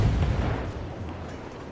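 Naval cannon fire from cruiser guns in the warship battle game World of Warships: a dense, low rumbling boom that opens loudly and rolls on as a sustained muffled roar.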